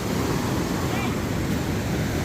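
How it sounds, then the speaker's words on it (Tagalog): Big ocean waves breaking at the shore, a loud continuous roar of surf with wind buffeting the microphone, steady throughout with no distinct voices. "Ang lalaki ng alon."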